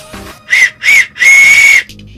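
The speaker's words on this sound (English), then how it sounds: "let's listen to the whistle." Paw Patrol toy whistle blown three times, two short shrill toots followed by one longer blast, loud and close with no talking.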